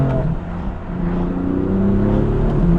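A BMW M4 engine holds a loud, steady high rev while its wheels spin without grip, a continuous drone close by with no talking.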